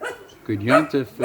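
A dog barks in a few sharp bursts close by, heard alongside someone speaking.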